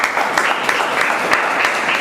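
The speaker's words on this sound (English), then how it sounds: "A big round of applause for that." A crowd at a speaking event breaks into dense, steady applause, a continuous wash of many hands clapping, loud and near, lasting a couple of seconds with no talk.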